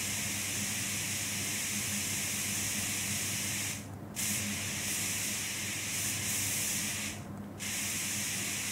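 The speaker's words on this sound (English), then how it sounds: "Let's turn on our spray gun so we can do one big" A paint spray gun in Diesel Brothers Truck Building Simulator, used on a 6-door Dodge 3500 build, gives a steady broadband hiss that runs almost without a break, with two short pauses where the spray cuts out.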